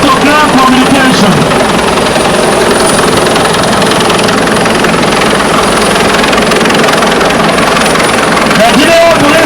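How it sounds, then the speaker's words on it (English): A Nigerian Police Force Airwing helicopter fitted with a GPMG runs loud and steady with a dense rotor and engine roar, with speech from a public address heard over it throughout. "the chopper has GPMG on it"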